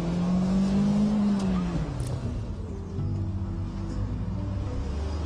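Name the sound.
car accelerating and drifting with handbrake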